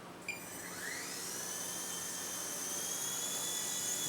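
Small Blade Nano S3 quadcopter drone spinning up and flying, its motors giving a steady high-pitched whine that starts abruptly and holds loud and close, with rising tonal sweeps as the rotors speed up.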